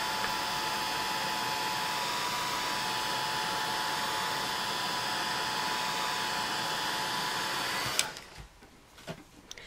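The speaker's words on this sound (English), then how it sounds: "I'm going to take my heat tool and just hit it one last time with some heat" A heat tool blows hot air over a color wash on canvas with beeswax, a steady loud whooshing hiss lasting about eight seconds before it cuts off abruptly, leaving faint handling noises.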